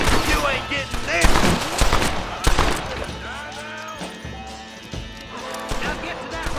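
Rapid gunfire rings out in a Red Dead Redemption shootout, loud repeated shots in dense bursts, with a voice speaking between and over the shooting.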